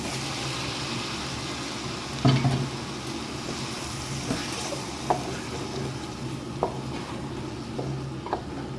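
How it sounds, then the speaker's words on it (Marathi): Tomato puree going into a pot of sizzling chicken minestrone soup, a steady low sizzle and bubbling broken by a soft plop and a few light stirring knocks, close and fairly quiet. "आता तिथून टोमॅटो प्युरी घालतो."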